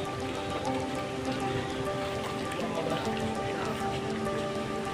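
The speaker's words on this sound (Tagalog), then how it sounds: "Uy, nakalakas ang ulan ah." Heavy rain pours steadily onto a surface, a dense, loud, continuous patter with no breaks.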